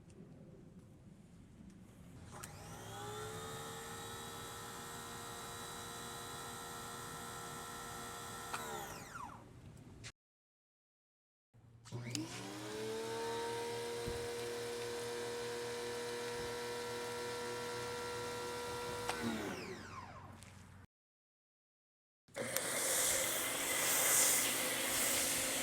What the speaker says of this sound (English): We want to be able to hear the machine, not the pressure coming out of this pressure washer hose.